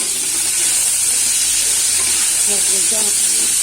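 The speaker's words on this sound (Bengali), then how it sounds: "ফুলকপিটা আর আলুটা ভাজছি" Cauliflower and potato with spices sizzle and crackle steadily in a hot pan, a loud continuous frying hiss with faint stirring and a brief murmur of voice near the end.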